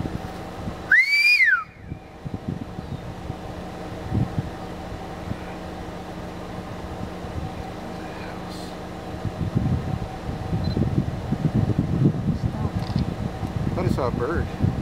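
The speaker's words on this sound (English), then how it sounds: "Let me whistle and see if he hears that." A person on a family farm gives one short, sweeping whistle near the start, followed by a steady hum and faint voices.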